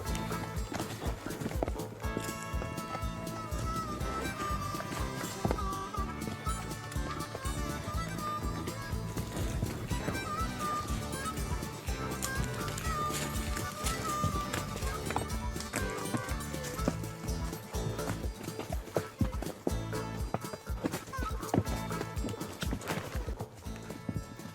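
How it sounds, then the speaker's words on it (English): Horses walk a cowboy trail toward the Verde River in Arizona, their hooves clip-clopping in a steady irregular rhythm under music, with an occasional whinny. "This trail is easy for the horses and also for the riders"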